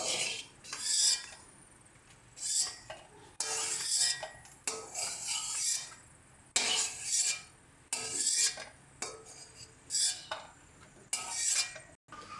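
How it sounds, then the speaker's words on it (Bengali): Fried dry red chillies scooped out of a hot pan with a metal utensil, making repeated close scrapes and clatters against the pan over a faint sizzling background, with no speech. "এখানে আমরা লঙ্কাগুলোকে তুলে নিয়েছি"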